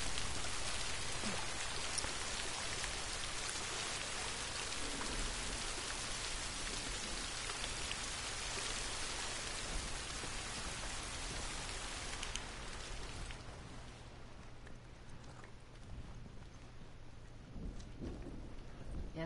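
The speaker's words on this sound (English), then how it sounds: "Yeah, at least we're out of the rain." Rain in a video game pours steadily and densely, a close, hissing wash that eases somewhat toward the end, with faint thunder rumbling underneath.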